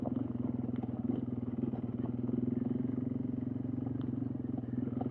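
A mini motorcycle rides along snowmobile trails, its small engine buzzing steadily and fairly close throughout, with faint clattering over the continuous drone.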